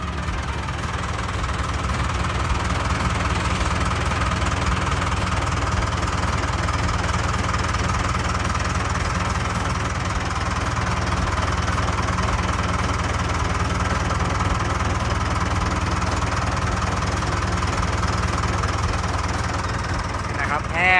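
A Komatsu 510 wheel loader engine idles steadily with a low rumbling throb and faint knocking, constant and close throughout, with someone talking over it.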